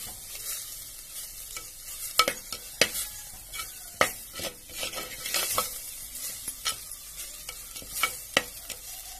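Eggs fry in a pan with garam masala under a soft sizzle, while a utensil clacks and scrapes against the pan in a run of sharp, uneven taps.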